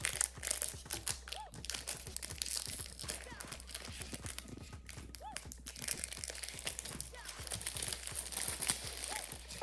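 A Pokémon card pack's plastic wrapper crinkles and crunches in close, dense bursts throughout, with quiet voices murmuring underneath.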